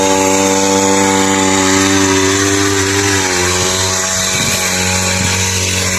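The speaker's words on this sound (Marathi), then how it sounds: "तिन्ही पंप चालू झाले." Three small engine-driven farm sprayer pumps run together with a loud, continuous droning whine, the pitch shifting slightly midway as one engine settles, close and unbroken throughout.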